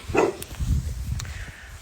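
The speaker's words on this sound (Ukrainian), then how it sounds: "тут собачки гавкають, охороняють свої будинки" Village dogs guarding their houses on a quiet autumn lane bark in short sharp yaps, a few quick barks close by, with a faint background hum.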